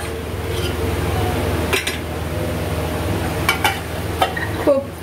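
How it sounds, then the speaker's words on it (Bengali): Koi fish curry simmers and bubbles in a pot while the fish are added, with several sharp metallic clinks of the lid and utensils near the end. "এবার মাছগুলো দিয়ে এটাকে ঢাকা দিয়ে দেবো"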